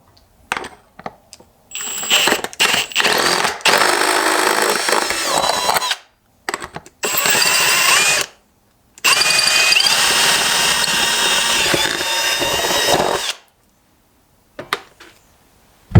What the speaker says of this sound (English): we're going to grab our drill bit and we're going to drill two new holes right here